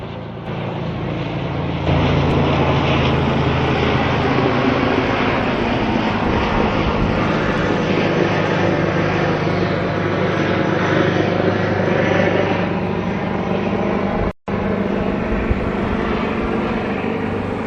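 A helicopter flies close by, its loud, steady engine roar and rotor drone holding constant for the whole stretch with one brief dropout near the end.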